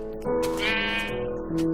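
Sheep bleat close by, a couple of wavering, nasal calls that overlap briefly, loud and clear with no talking.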